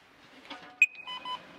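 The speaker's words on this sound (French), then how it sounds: "Donc on va te dire au pistolet, il faut biper l'emplacement." A warehouse barcode scanner gun lets out a short, bright beep, followed by a quick pair of softer electronic tones, in a quiet training warehouse.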